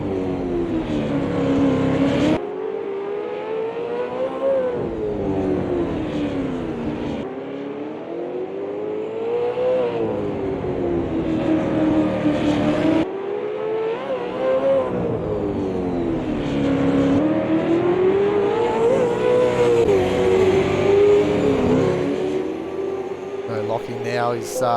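Race cars at the Adelaide 500 street race, engines revving and shifting through gears in rising and falling sweeps, loud and continuous across several cuts, with commentary spoken over them.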